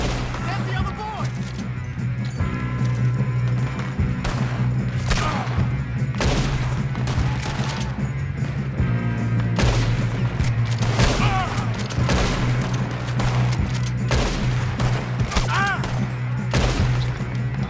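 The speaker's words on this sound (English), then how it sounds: "Good shooting, kid." Gunshots crack through a shootout in Red Dead Redemption 2, repeated sharp reports spread irregularly across the scene over a steady low hum, with voices talking in between.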